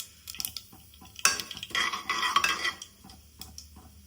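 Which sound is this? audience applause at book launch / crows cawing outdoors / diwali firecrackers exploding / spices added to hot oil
spices added to hot oil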